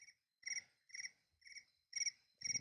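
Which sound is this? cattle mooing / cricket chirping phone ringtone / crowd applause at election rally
cricket chirping phone ringtone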